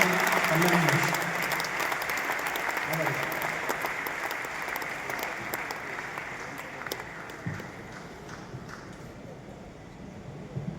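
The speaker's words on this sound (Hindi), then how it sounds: "एक बार तालियां बजाकर उसका स्वागत करिएगा" An audience claps to welcome a performer on stage, a dense, loud burst of applause that gradually thins and fades over several seconds, with voices mixed in underneath.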